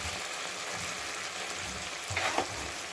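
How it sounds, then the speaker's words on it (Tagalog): Onions caramelizing in a frying pan alongside chicken legs for adobo mechado give a steady, close sizzle with a brief louder crackle and stir near the end, no voices. "Nag-caramelize ang sibuyas."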